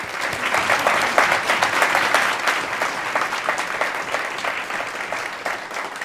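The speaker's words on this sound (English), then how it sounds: "give him a round of applause, please" A forum audience applauds a speaker, a dense, steady wash of many hands clapping at moderate loudness for about six seconds, easing slightly toward the end.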